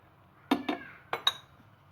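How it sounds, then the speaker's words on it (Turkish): Dry pasta toasts in oil in a pan while a utensil stirs it, giving four sharp metallic clinks in two quick pairs against a faint background. "Bu şekilde arkadaşlar ben kavurmaya devam edeceğim makarnalarımı yağda."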